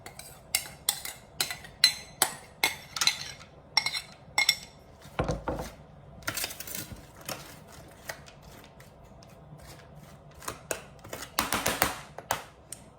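Acorn squash seeds being stirred on a baking pan, a run of light scraping and clinking taps in irregular bursts, fairly quiet and close, with no talking.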